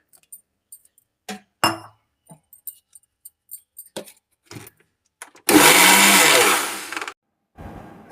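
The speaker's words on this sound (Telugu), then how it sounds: "కొంచెం పోసుకొని మిక్సీ పట్టుకుందాం" Mixer grinder blending coconut with water for coconut milk, a loud continuous whirring grind of about a second and a half, preceded by scattered small clinks and taps and followed by a brief knock.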